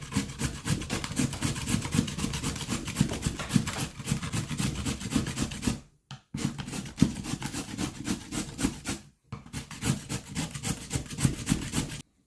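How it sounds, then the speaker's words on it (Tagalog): Pumpkin being grated by hand for veggie fritters (okoy): steady, rapid rasping strokes up close, continuous scraping with two brief pauses, no talk. "I just grated it like this"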